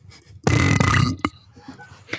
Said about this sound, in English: How many more burps you got loaded up in there?